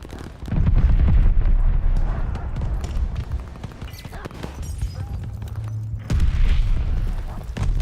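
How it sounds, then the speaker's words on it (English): Incoming enemy artillery shells explode in Call of Duty: Vanguard, heavy low rumbling booms rolling one into another, loud and sustained with a brief lull before a fresh blast. "Enemy shells coming in hot."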